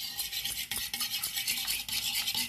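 Eggs are beaten with salt for an omelette, a fast rhythmic scraping and clicking of utensil against bowl, close and steady, with no talking.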